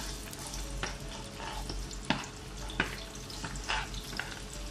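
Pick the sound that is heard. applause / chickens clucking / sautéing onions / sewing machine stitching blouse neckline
sautéing onions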